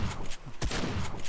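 A short burst of gunfire from the 7 Days to Die video game, a few sharp shots in quick succession, moderately loud.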